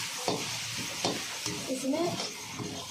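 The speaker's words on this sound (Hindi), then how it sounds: "धनिया पाउडर, हल्दी पाउडर, मिर्चा पाउडर, तीनों पाउडर हम इसमें डाल करके भूजेंगे" Ground coriander, turmeric and chili powder frying and being stirred in a pan with onion, giving a steady soft sizzle with a few scraping stirs and a brief voice.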